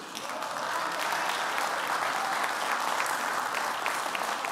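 Applause from a church congregation at a French-language sermon fills the room, steady and continuous with crisp individual claps, heard from a moderate distance throughout.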